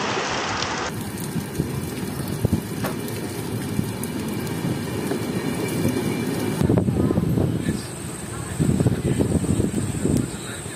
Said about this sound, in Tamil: S, பாபநாசத்தில் heavy rain